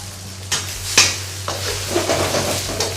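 Egg sizzles in a pan while a utensil scrapes and stirs it in a few quick, irregular strokes, close up over a low steady hum.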